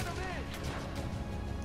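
Grenade blast in The Division, a dense, loud burst of broadband crash and rumble filling the whole moment, with a voice shouting over the game noise.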